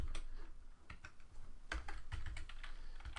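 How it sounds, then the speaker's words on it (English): Close, quick typing on a computer keyboard, an uneven run of light key clacks with short pauses between bursts, heard alone with no voices. "So I'm just going to type in hello world."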